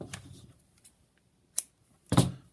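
Scissors snip off excess sinew while a men's choker is being made, giving a few crisp, separate cuts spaced apart, with quiet gaps between them.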